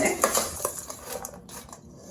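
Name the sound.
stirring onion powder, paprika and spices in a bowl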